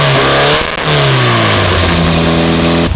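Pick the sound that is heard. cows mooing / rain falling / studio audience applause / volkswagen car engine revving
volkswagen car engine revving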